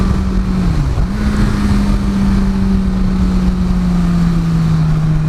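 A motorcycle on Dunlop Sportmax Q3+ tires holds a steady throttle. The engine's drone stays loud and even throughout, with a brief dip near the start and constant wind rush, and no voices.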